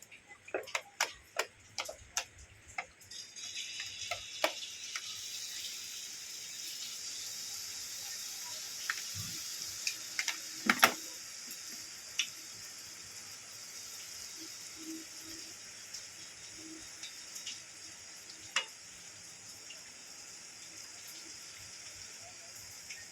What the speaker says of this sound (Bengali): তেলও গরম হয়ে গেছে এক এক করে ঝুড়ি ভাজা বানিয়ে নেবো